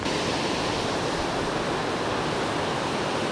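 Small waterfall on a creek pours in a steady, loud broadband rush of falling water, continuous and close with no other sounds or voices.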